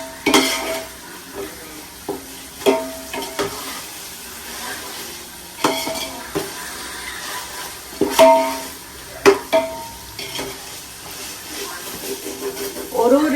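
Onions and tomatoes sauté in a pan for biryani, a low sizzle broken by repeated clinks and scrapes of a spoon stirring against the metal, coming in irregular bursts.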